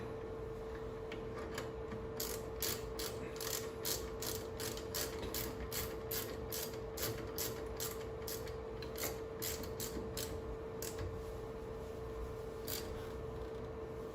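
Ratchet wrench tightening rear parking brake hardware on a 2001 Chevrolet Suburban, a quick run of sharp, evenly spaced clicks close by over a low steady hum, no talking.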